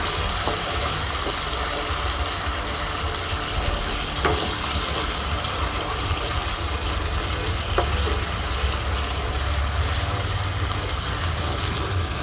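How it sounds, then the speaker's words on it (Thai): Pork cracklings stir-fried with curry paste in a pan at a rustic outdoor camp kitchen sizzle steadily and loudly throughout, with faint scrapes of stirring. "ผัดไปเรื่อยๆพอได้ที่แล้วประมาณนี้นะคะ"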